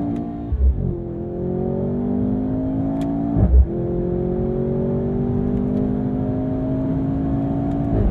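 A 2023 Mercedes-AMG C43 sedan engine revs hard toward redline, loud and close. The pitch climbs steadily through two gear pulls with a brief shift break between them and no talking.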